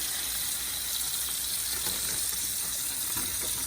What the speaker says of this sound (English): Now I'm gonna go ahead and run this water.